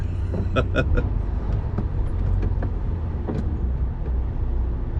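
Road traffic while riding a moped or motorbike through London streets, weaving between vehicles: a steady close engine and road rumble with passing traffic, and someone talking over it.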